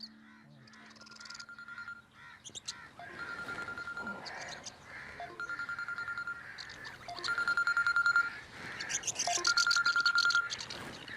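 An incoming call sets a phone ringing with repeated short electronic melodic bursts, moderately loud, over faint room noise and a few stray background sounds.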